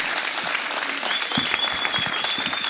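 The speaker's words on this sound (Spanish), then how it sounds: "Le damos un fuerte aplauso al compañero dirigente del Partido Obrero," A crowd at a Partido Obrero political rally, Frente de Izquierda, in Guaymallén, claps steadily and densely throughout, a brisk even wash of hands with a faint whistle running over part of it.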